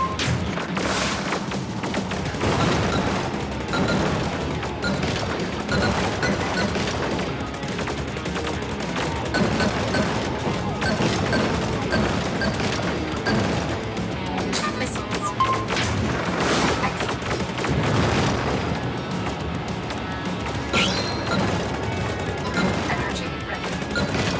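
Missiles launch and burst in the Starfox Afterburner game, dense repeated blasts, thuds and gunfire-like bursts layered over busy game audio throughout.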